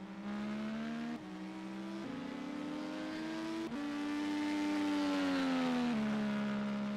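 An IndyCar race at Watkins Glen Boot in a sim racing video game carries a steady, fairly quiet engine drone from the race cars, rising in pitch with gear shifts as they accelerate past.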